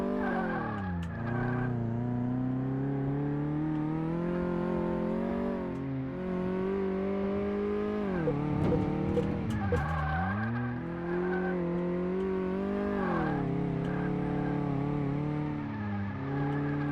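Synthetic racing engine in Car Mechanic Simulator 2018 revving up and down repeatedly on a test track, with tires screeching in a couple of skids, loud and continuous.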